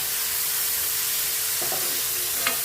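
Onion and tomato fry in a pan with a soft, steady sizzle and hiss. Near the end come a few faint scrapes and clinks of stirring.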